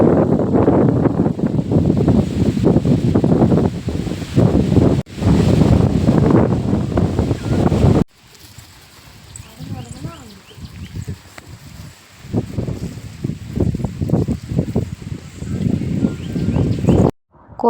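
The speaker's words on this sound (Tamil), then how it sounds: "அப்படியே நம்மளே தூக்கிட்டு போகிற மாதிரி சரியான காற்று." Strong gusts buffet an outdoor microphone on a rural trip to a hilltop temple, a loud rumbling roar in the first half that drops away, then returns more unevenly. People talk over the wind.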